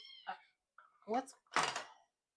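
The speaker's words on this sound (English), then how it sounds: "sorry, cat playtime." A house cat gives a few close, distinct meows during playtime, with short pauses between the calls.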